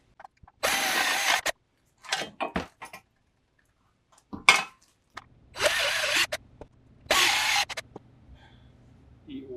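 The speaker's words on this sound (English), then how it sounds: "I'm gonna drill that at least another size bigger." A drill bores out a hole to a larger size for a throttle cable on a 1972 VW Super Beetle engine, heard as several short, close, harsh bursts separated by pauses and light metallic handling clatter.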